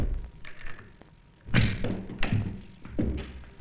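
The charging handle is fitted into a SIG SG 550 rifle, heard as three close, solid metallic knocks spaced about a second apart, with faint handling noise in between.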